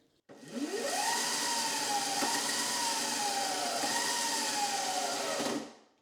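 A Razor MX400 electric dirt bike motor under throttle rises into a loud, steady whine, holds with small wavers for about five seconds, then cuts off.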